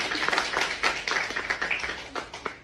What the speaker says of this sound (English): In the back, I need y'all to clap louder.